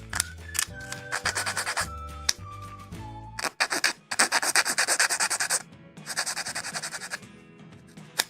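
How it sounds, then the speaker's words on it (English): A Bandai 1/144 HG Gundam Dilanza model kit part is filed by hand, giving close, rhythmic rasping strokes in repeated bursts after a few brief clicks and tones, with no talking. "Just a little bit of filing here."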